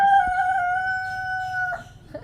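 A rooster at a home where onions are grown gives one long, loud crow that holds a steady tone, then breaks off, with faint clucks at the end and no voices.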